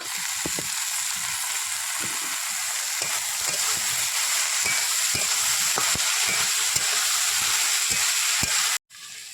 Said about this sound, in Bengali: মশলাটা কষানো হয়ে গেছে, এবার মোচাগুলো ঢেলে দেবো।